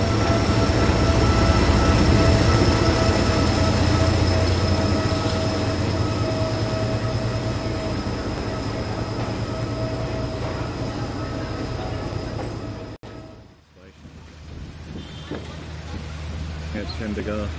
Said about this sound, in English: got off the train, 3 hours on a very comfortable train